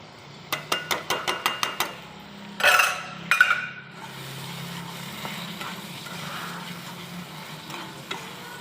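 Curd paste goes into a hot pan for prawn malai curry: a quick run of sharp scraping clicks, then a loud wet plop and splatter, followed by a steady soft sizzle.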